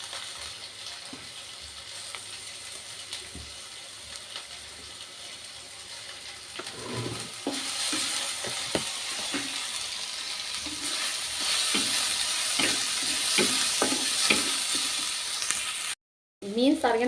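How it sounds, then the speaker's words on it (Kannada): Onions sizzle in a pan for Kerala-style fish curry, the frying hiss swelling louder midway with scattered clicks and scrapes, a person talking over it before a brief dropout near the end. "ಈರುಳ್ಳಿ ಹಾಕ್ಕೊತಾ ಇದ್ದೀನಿ, ಇನ್ನೆಲ್ಲನೂ ಸ್ವಲ್ಪ ಫ್ರೈ ಮಾಡ್ಕೊತೀನಿ"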